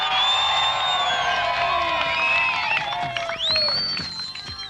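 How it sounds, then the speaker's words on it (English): A 1988/89 Mildura Speedway crowd at the National Modified Production Title presentation cheers loudly for car 35 driver Kim Webber from Waikerie, South Australia, a dense roar with high whistles and whoops that fades slightly toward the end. "I know we're going to get a big cheer here from Waker in South Australia"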